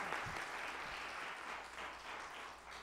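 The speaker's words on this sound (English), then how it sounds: "And for our chorus, we have a round of applause." An audience at a bhajan satsang applauds the chorus with a steady, dense clapping that fills the room from start to finish and fades slightly at the end, moderately distant with no talking over it.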